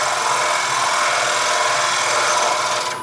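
Gouge cutting wood from the center outward to shape a coffee scoop, a steady close, loud rasping scrape that holds for about three seconds before easing off.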